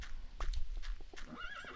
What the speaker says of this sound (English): I hear you, horse.